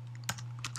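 A couple of quick keystrokes on a computer keyboard while entering Lua code, two sharp close clicks over a low steady electrical hum.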